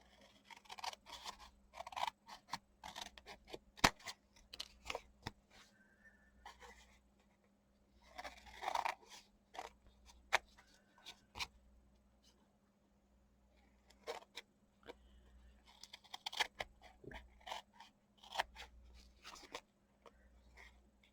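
Scissors snip through an artist trading card in scattered bursts of close, crisp cuts with pauses between them, no talking, over a faint steady background hum.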